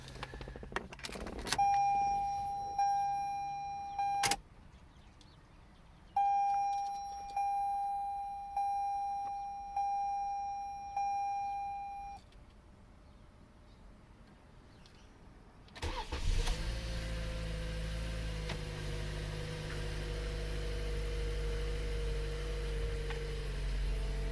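A 2020 Toyota Camry SE cabin gives a run of chimes and repeated electronic beeps, then the engine cranks and catches, settling into a steady, fairly loud idle heard from inside the car.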